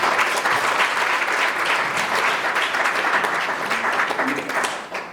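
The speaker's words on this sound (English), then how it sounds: "another round of applause" Audience at a local government conference claps steadily and loudly throughout, a dense wash of many hands that eases slightly toward the end, with faint voices mixed beneath.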